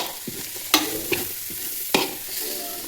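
Carrots and beans sizzle as they are sautéed in a pan for biryani, with several sharp scraping strokes of a spoon cutting through the steady frying noise close by.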